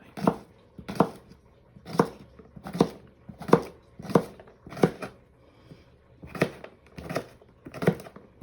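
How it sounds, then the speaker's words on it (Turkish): A knife chops through thin unpeeled cucumbers on a board in a steady rhythm, about a dozen crisp, close cuts with one brief pause. "Birkaç tane böyle ince salatalık da yıkadım. Soymadan doğrayacağım bunu."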